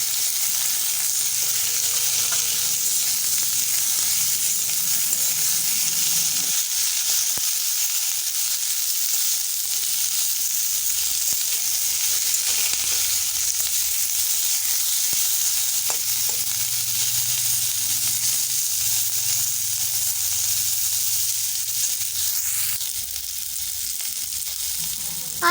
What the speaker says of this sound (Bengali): আলুগুলো আমার লাল লাল করে ভাজা হয়ে যেতে আমি পেঁয়াজ দিয়ে দিয়েছি, পেঁয়াজটাকেও ভালো করে ভেজে নেব